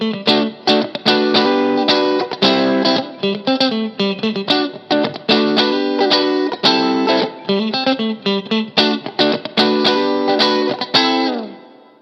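A Rob Williams Classic 57 electric guitar plays a funky, choppy chord pattern on its middle and neck pickups together. Rhythmic strums with short gaps run for about twelve seconds, then ring out at the end. No talking.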